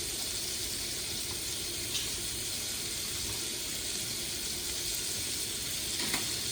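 Butter sizzles steadily in a hot pan, a soft continuous crackling fry with a couple of faint clinks of a utensil, heard alone and close.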